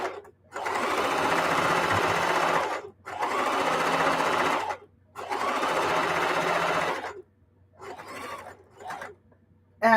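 A sewing machine stitches a wide seam on a quilted jelly roll placemat, running in three steady whirring bursts of about two seconds each, close and clear, followed by a shorter, softer run.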